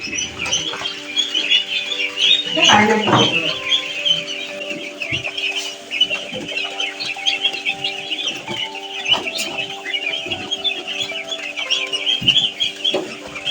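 Busy pattering and dabbling of ducks feeding, with scattered pecks and taps and a quacking burst early on, close and continuous.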